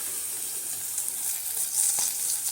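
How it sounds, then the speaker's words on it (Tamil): Eight dried red chillies frying in hot oil for a Tamil chutney, a steady close sizzle and crackle throughout with a few brief pops and no voices. "அதே எண்ணெயில் நான் ஒரு 8 வரமிளகாய் சேர்த்துருக்கேன்."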